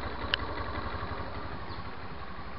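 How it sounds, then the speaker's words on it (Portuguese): A Suzuki Burgman 125 scooter with a carburetor engine idles, a steady low, even engine hum with one brief click near the start. "É só você ver se o motor tá com barulhinho uniforme, sem estar acelerado."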